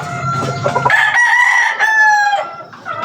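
A sweater gamecock crows loudly and close, one long drawn-out crow that follows a few short clucks, with no talking over it.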